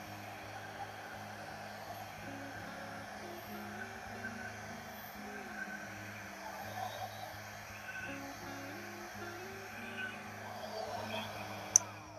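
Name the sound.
air blown across wet acrylic paint, likely a hair dryer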